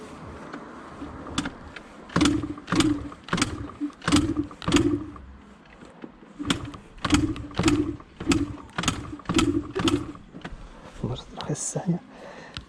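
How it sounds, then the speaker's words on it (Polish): Suzuki SMX 50 moped engine being cranked for a start, a series of rhythmic mechanical bursts repeated in two runs with brief pauses, close and fairly loud. "Zobaczymy, czy dzisiaj, czy dzisiaj będzie chciał ten motorek zapalić."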